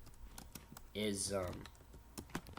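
Quick clicks of typing on a computer keyboard patter close by, with a brief spoken word in the middle of the run of keystrokes.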